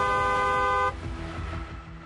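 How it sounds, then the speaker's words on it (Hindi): A car horn blares in one steady, loud, tonal honk that cuts off sharply, leaving low rumbling road traffic behind. "हॉर्न बजाएं।"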